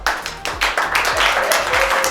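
An audience at a school association donation ceremony claps in brisk, uneven bursts, close and fairly loud, with voices faintly underneath.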